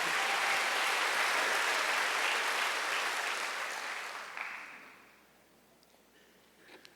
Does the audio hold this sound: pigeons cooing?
no